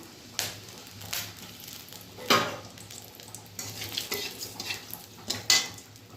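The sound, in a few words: chillies and bay leaves tempering in a pan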